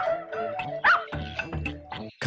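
A dog barks and yips repeatedly in quick, irregular bursts, close and fairly loud, with whimpering notes mixed in.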